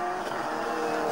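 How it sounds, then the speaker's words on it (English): A rally car on a gravel stage in the Scottish Series holds a steady, loud engine drone at high revs throughout, without a break. "Malcolm Proudlock then in the Zylock car"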